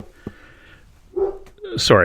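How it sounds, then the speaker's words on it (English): A dog barks outside a log cabin at coyotes, two or three short, sharp barks spaced through the moment, mixed in with a person speaking nearby. "He's chasing coyotes or barking at coyotes."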